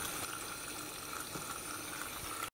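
Steady running water from a tap rinses blood off beef short ribs in a kitchen sink, a continuous close splashing hiss with small irregular spatters.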